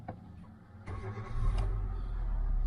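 A used car engine with about 59,000 miles cranks briefly and catches on the button, then settles into a steady low idle rumble.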